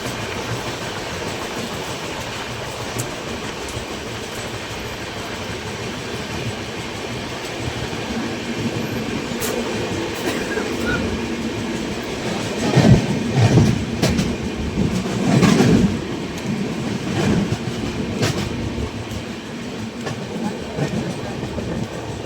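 The 12102 Jnaneswari Express, running from Kolkata to Mumbai LTT, rolls on its rails as it passes from Odisha into Chhattisgarh near a small bridge. A steady, heavy rumble carries a rhythmic clickety-clack that grows louder and rougher midway.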